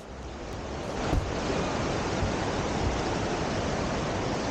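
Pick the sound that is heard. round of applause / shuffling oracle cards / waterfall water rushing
waterfall water rushing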